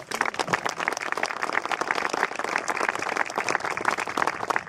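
A crowd at a groundbreaking ceremony applauds the donors with lively, dense clapping from many hands, close and sustained for several seconds with no talk over it.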